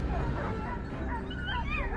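Hunting dogs on a Florida wild hog hunt in swampland give short yips and whimpering barks, fairly faint and overlapping, with some rising whine-like calls.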